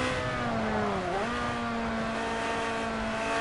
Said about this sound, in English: I really like to hear that roar of that engine.